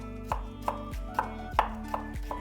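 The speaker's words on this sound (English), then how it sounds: "Now, slice it quite thin against the fiber." A knife slices ginger thinly on a board against the fiber, giving about seven crisp, close chops at a steady, unhurried rhythm with no talk.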